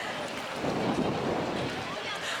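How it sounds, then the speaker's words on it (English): Steady, broad rushing of misty wind buffets the microphone outdoors in Bilbao, Basque Country, throughout, a continuous blustery roar with no clear pauses. "It's a little windy, it's a little misty,"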